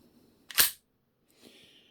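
The bolt of a JC Higgins Model 30 semi-automatic rifle with a jeweled bolt is worked to show it clear: one sharp, loud metallic clack, then a softer sliding rattle about a second later, close up with no talk.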